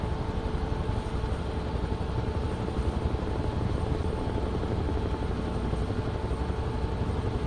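A C-47 aircraft in Microsoft Flight Simulator: a steady, dense propeller-engine drone held at constant loudness throughout, with no voices over it.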